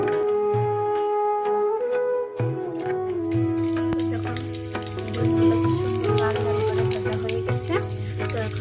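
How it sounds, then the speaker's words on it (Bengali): Eggs frying in a pan with salt and turmeric for an egg and potato curry, with a steady sizzle and bubbling at moderate volume and no talk. "তাহলে ডিমগুলো লাল লাল করে ভাজা হয়"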